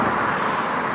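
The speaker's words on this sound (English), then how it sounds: "Motor coming by." A motor passes close by on Loch Long during a canoe outing, a steady, loud broadband rumble lasting under a second with no talk over it.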